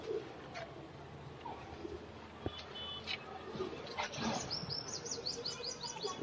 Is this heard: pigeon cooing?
yes